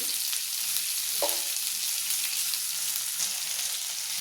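Sliced okra sizzles in a pan for a dry Indian stir-fry, a steady soft hiss broken by a single scraping stir partway through, close and fairly quiet with no talking.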